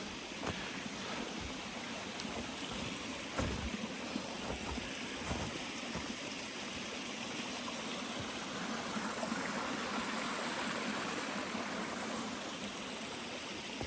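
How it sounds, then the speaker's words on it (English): Steady, broadband rushing of flowing water, like a brook running nearby, continuous and even throughout, with a few faint low thumps. "Probably just the brook."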